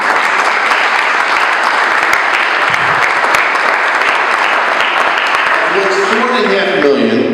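An audience at the Fall River YMCA ribbon cutting claps steadily and loudly in a continuous wash, with a voice beginning to speak near the end.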